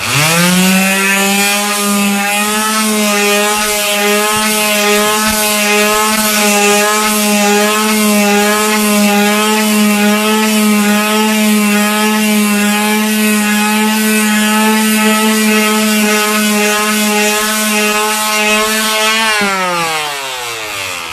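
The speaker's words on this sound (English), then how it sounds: "I'm going to start with my quarter sheet sander." A quarter sheet sander fitted with 80 grit sandpaper runs across wood while stripping a stained finish. It makes a steady, loud, even motor drone for about twenty seconds, then winds down at the end. No one speaks.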